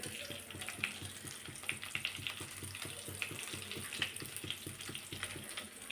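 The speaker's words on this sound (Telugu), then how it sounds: "అలానే కొంచెం జీలకర్ర కూడా వేసుకొని ఇవి బాగా ఫ్రై కావాలి" Chana dal and cumin seeds frying in oil in a pan for a village-style brinjal tomato chutney, giving a steady close crackling sizzle with faint bubbling throughout, no talking.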